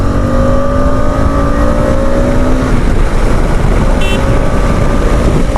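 A KTM Adventure 250 motorcycle engine drones steadily while riding, its tone sliding through gear changes, with constant wind rush and no voices.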